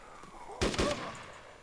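A quick burst of two sharp gunshots cracks out close by in DayZ, fading into quiet background noise.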